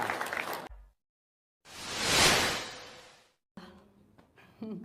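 A burst of clapping from an audience at a gathering where a Hajj-related prayer is answered. It swells to a peak and fades over about two seconds, with talk before and after it.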